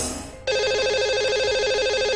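A telephone rings as a call is placed to a lucky caller on a radio show, a loud, steady repeating electronic ring tone that starts abruptly after a short fade-out of music.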